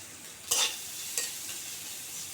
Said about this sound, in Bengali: হালকা নেড়ে চেড়ে ভেজে নিতে হবে